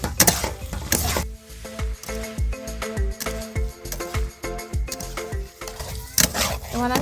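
Lightly fried flat beans are stirred in a hot pan for a bean kalia: repeated clanks and scrapes of a spatula against metal over a low sizzle, with a steady tonal background running underneath.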